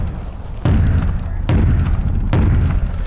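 An all-steel race car trailer is struck three times, each hit a deep, heavy thump followed by a dull, resonant ring, close and loud.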